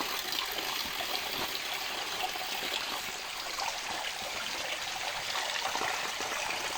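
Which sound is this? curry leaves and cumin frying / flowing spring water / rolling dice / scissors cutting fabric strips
flowing spring water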